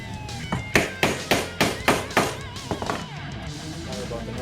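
A hole punch is hammered into leather for a replica wrestling belt on a worn counter, giving a series of sharp, loud, evenly spaced bangs up close, about seven strikes, then a low rumble of handling.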